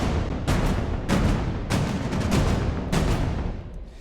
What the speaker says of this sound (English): we get into some pretty aggressive drum sounds